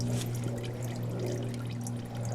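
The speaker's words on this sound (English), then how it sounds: "So we're going to flush and drain and dump out the gas tank." Gasoline is poured out of a Tecumseh lawnmower fuel tank in a steady, continuous trickling pour, fairly quiet, over a constant low hum, with no talking.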